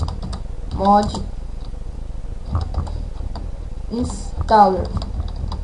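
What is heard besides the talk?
typing a search on a computer keyboard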